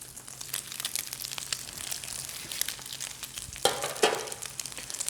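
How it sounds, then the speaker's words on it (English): Crab cakes sizzling in a frying pan over medium-high heat, a faint steady crackle and hiss with a louder burst as another cake is set down. "you put it in there and you hear the sizzle"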